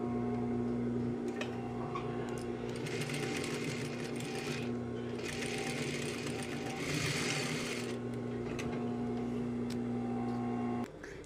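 A sewing machine stitches a waistband seam in a steady, close mechanical hum with a rapid ticking rhythm. It runs continuously, with brighter bursts partway through, and stops at the end.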